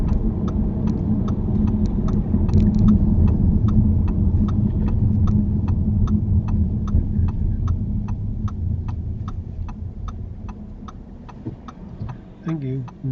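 A car slowing and pulling up at the roadside during a UK driving test, its engine humming steadily inside the cabin while an indicator ticks in an even rhythm; the engine note eases toward the end.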